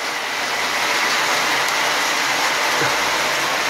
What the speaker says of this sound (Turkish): Çok şiddetli yağmur yağıyor görüldüğü gibi.